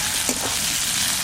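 Whole garlic cloves drop into chicken frying in a village-style Bihari chicken pot, giving a steady close hiss of sizzling oil with a couple of soft stirring knocks, no voices over it.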